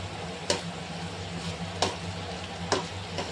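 Garam masala, turmeric, coriander powder and red chilli powder are stirred in a frying pan for a gongura fish curry, with a soft continuous sizzle broken by three sharp spoon scrapes.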